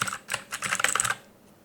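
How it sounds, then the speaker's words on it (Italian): Quick clatter of keystrokes on a computer keyboard, close and clear, running for about a second before stopping, with a faint air-conditioner hum underneath. "sentiamo lo stesso rumore che prima vi avevo fatto sentire dalla tastiera"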